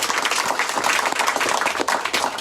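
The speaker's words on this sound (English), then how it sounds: "I think they deserve a round of applause" A crowd at an outdoor community rally against hate applauds its organizers, with dense and steady clapping from many hands, close and loud throughout with no talk over it.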